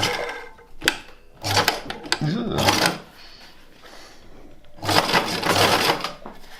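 Sewing machine running bursts of top stitching on a gear stick gaiter for a custom shift boot, a few rapid mechanical whirring runs separated by pauses with handling clicks, close and fairly loud.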